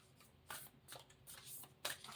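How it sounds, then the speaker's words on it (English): A deck of cards being shuffled, with several quick riffling bursts of soft flicking and a louder final riffle near the end, close and alone. "I don't want half the video to go on shuffling cards, right?"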